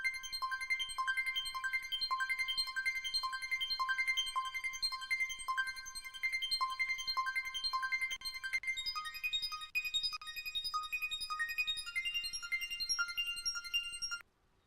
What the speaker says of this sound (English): now we have another synth in here, which is called the Amber